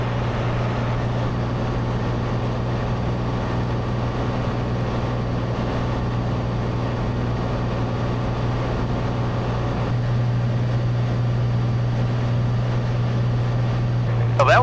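A Cessna light aircraft's engine drones steadily from inside the cabin during departure, a constant low hum with a faint voice briefly over it.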